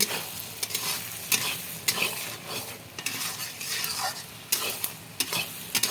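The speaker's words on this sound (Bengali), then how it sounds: "এটা আরো ভালো করে ভাজতে হবে। এই যে দেখো, পেটা কিন্তু ভাজা হয়ে গেছে।" Fish belly pieces crackle and sizzle in a hot pan, with repeated sharp spatula scrapes and clicks against the metal at an uneven rhythm, close and fairly loud, and no one speaking.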